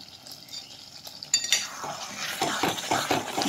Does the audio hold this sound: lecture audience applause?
no